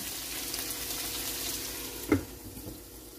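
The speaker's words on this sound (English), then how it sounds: "That is searing nicely" Beef sears in a hot pan with a soft, steady sizzling hiss close by, broken by a single brief clatter near the end.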